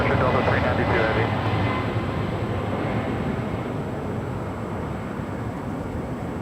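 A Delta airliner passes at LAX, a broad, steady jet roar that starts loud and eases slightly as it moves away across the whole span.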